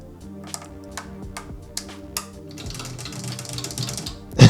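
Keys on a self-assembled Moog Werkstatt synthesizer with its circuit board exposed click repeatedly, a series of crisp, close taps that thicken into a faster clatter before a louder final knock.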